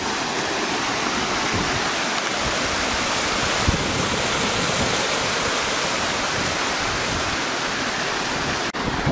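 Running water rushing through Ape Canyon on Mount St. Helens, a loud, steady broadband roar like a stream or small waterfall, continuous and close with no voices.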